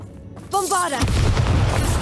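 In Hogwarts Legacy, a voice casts the Bombarda spell, and a rising magical whoosh follows. A heavy, close boom then rumbles on for about a second.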